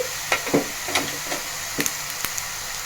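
Sugar and sesame powder being stirred in a pan on a lit stove for sweet sesame rice, giving a quiet run of scraping, scratchy strokes with a faint sizzle, spaced irregularly and close by.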